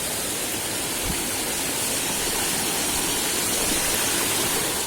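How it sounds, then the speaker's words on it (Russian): A waterfall near Rishikesh in winter pours with a dense, constant roar of falling water, loud and unbroken for the whole stretch, with no voices over it. "Зато вот такой водопад."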